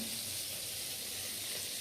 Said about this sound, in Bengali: এদিকে পটল ভাজছি